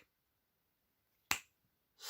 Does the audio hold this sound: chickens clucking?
no